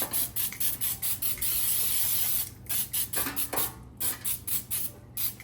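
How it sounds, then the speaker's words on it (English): Repeated short hissing bursts of aerosol baking spray into a 9x13 baking dish, pulsing rapidly with a longer continuous spray in the middle, fairly quiet and close. "I'm gonna spray it with some baking spray"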